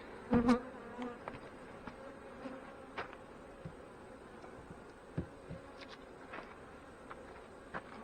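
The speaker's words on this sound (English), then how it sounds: "This is quite the box full of bees" Dense, steady buzzing of many honey bees close up in a hive box full of honey, with a few sharper knocks and taps on wood now and then, no talking.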